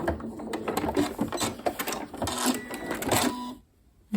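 Sewing machine stitching a few stitches and then a back stitch on a cushion, a rapid mechanical chatter of needle strokes for about three and a half seconds before stopping.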